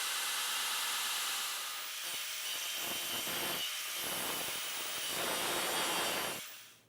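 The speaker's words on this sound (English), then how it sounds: "I'm just going to grind off the back side here until it will open fully." A grinder works steadily against the back of a Damascus steel friction folder blade, giving a loud, continuous abrasive whine that dips and swells as the blade is pressed and lifted, then cuts off at the end.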